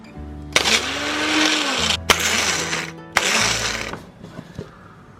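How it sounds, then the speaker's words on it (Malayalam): Five Dark Fantasy Choco Fills biscuits are crushed into crumbs in a mixer grinder, running in three loud whirring bursts separated by short pauses, with a softer rattle at the end and no talk. "ഞാനിവിടെ ഡാർക്ക് ഫാന്റസി ചോക്കോ ഫിൽസ് ഒരു 5 എണ്ണം ഒന്ന് പൊടിച്ചെടുക്കാണ്"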